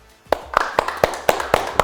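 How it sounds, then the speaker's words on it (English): Hands clapping for trainer Jose at a window tint training program, a steady rhythm of sharp, evenly spaced claps, close and fairly loud, like a small group keeping time rather than a full burst of applause. "I want you to give a round of applause to my man Jose"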